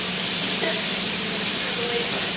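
Chicken pieces sizzle steadily as they brown in a pan for a tagine, a dense continuous frying hiss with no break across the moment.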